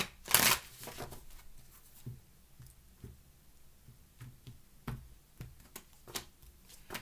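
Tarot cards riffled and shuffled by hand, starting with a loud close burst of rapid flicking, then scattered soft taps and card slaps through the rest, with no talking.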